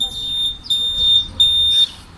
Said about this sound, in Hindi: मेरे पास अलार्म आने शुरू हो गया है।